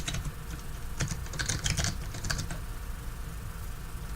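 Computer keyboard typing code, quick uneven bursts of close key clicks with short pauses in between, alone against a quiet background hum.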